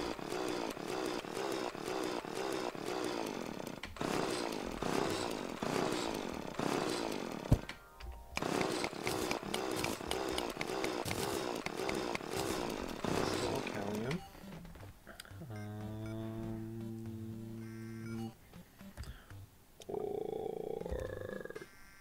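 A mining tool grinds into adamantium ore in the video game Terraria, a dense, steady buzzing drone that runs loud and continuous for about fourteen seconds before giving way to sustained tonal game sounds.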